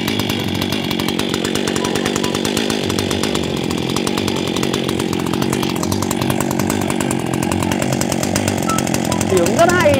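Echo Kioritz 671 chainsaw, a Japanese 67cc saw with a paper air filter, runs steadily for about ten seconds, its loud engine drone staying close and constant.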